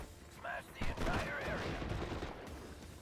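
Bursts of gunfire from the World War II strategy game Steel Division: Normandy 44, fought in hedgerow terrain, rattle at moderate distance, mixed with other battle noise and a brief whistling tone, fairly faint.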